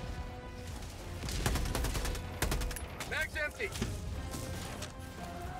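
Rapid strafing gunfire in a video game, with dense bursts of shots repeating through the clip and loud cracks around the middle, while voices speak over the action.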